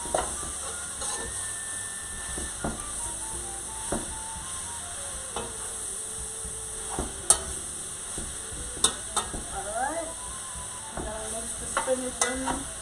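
Alfredo sauce and heavy cream being stirred into a pot of cooking vegetables for shrimp alfredo, with a steady low sizzle underneath and scattered scraping clinks of the spoon against the pot.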